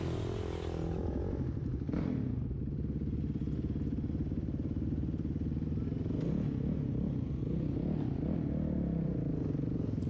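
Motorcycles starting up and pulling away on a country road, engines rumbling and revving steadily, with wind buffeting and clattering over them, moderately loud throughout.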